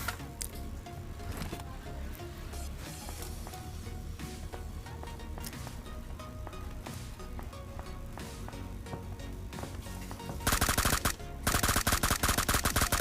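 Gunfire in the PUBG Mobile video game crackles as sharp, repeated shots and bursts over a busy game-sound bed, turning louder and denser near the end.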